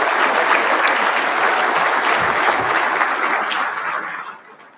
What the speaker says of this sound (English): a round of applause for Major Fitzgerald